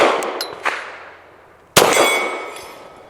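Two sharp gunshots from an Adler Arms AD 9 pistol, each a loud crack with a ringing metallic tail, the second louder and separated by a pause of over a second.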